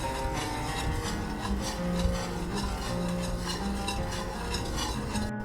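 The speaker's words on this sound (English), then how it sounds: "One cup of milk comes next. And we whisk it until mixed." A whisk beats milk into sweetroll batter in a bowl, making a continuous, even scraping and stirring clatter that runs steadily throughout with no pauses.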